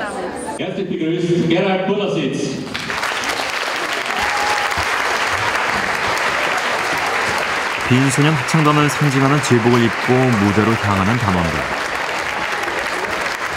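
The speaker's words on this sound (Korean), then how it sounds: "관객들의 뜨거운 환호를 받는 26명의 합창단원들." An audience in a concert hall applauds the Vienna Boys' Choir in a loud, steady, sustained roar of clapping, with a narrator's voice over it and the choir's singing briefly at the start.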